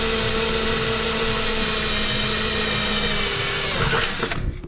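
A power drill boring holes in a garage for a Jeep Wrangler rock light install, a loud, steady close-up whine that winds down and stops near the end.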